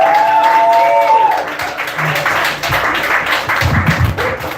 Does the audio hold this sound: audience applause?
yes